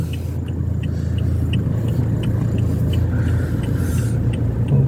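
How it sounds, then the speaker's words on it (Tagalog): Steady road traffic rumbles on a busy street, a continuous low drone of car engines with faint higher noise, even and moderately loud throughout, with no talk. "Kasi naka-traffic sa daan."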